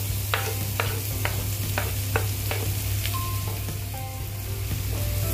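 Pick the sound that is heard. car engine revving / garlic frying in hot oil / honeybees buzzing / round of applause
garlic frying in hot oil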